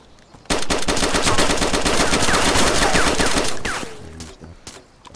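Sustained automatic gunfire rattles in rapid, loud bursts in the video game DayZ, holding for about three seconds before trailing off into scattered shots.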